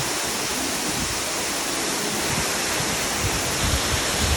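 A steady, full roar of falling water, constant and broadband with a faint low rumble, like standing close to a waterfall in the hills at Bhedetar, Nepal.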